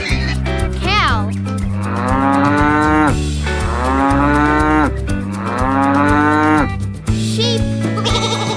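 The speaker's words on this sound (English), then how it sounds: "Cow." A cow moos several times in long, loud, drawn-out calls with falling pitch, separated by short pauses over a steady backing track.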